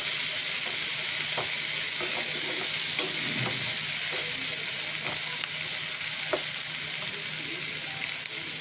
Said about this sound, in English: So let's stir the vegetables together.